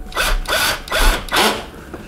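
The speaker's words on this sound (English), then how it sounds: "Put in one of the bottom screws." A power driver drives a screw into a KitchenAid dishwasher during a dispenser door repair, in four short, close whirring bursts with brief pauses between them.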